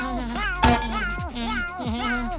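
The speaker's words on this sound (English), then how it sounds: "Are your snails still meowing?" A cartoonish voice meows repeatedly as a cartoon snail from SpongeBob SquarePants, several short rising and falling cries in a row, with a sharp knock partway through.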